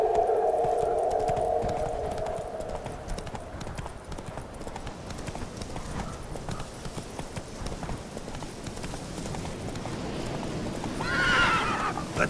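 Geralt's horse Roach from The Witcher 3 game gives a loud whinny at the start, then steady clip-clop hoofbeats of galloping continue throughout, with another neigh near the end.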